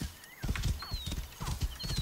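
Horse hooves clip-clopping at a steady trot in the video game Assassin's Creed Origins, close and fairly loud, with a few faint whinnying tones and music in the background.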